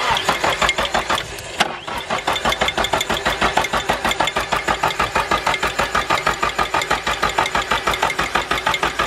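A Nissan Silvia S13 with an SR engine cranks on the starter without firing, a fast rhythmic chugging that holds a steady pace for several seconds, loud and close.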